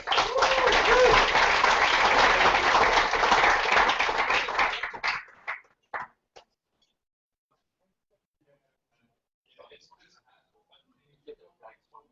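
Audience applause for a presenter taking the stage, loud dense clapping for about five seconds, then tapering into a few scattered claps and near silence.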